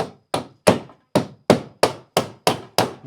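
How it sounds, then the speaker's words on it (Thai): A hammer drives a nail in sharp, evenly spaced blows, about nine solid whacks over a few seconds, loud and close with brief ringing decay and no talk, while belongings are packed and a house is taken apart. "ตะปูก็เป็นตอกเข้าเลย"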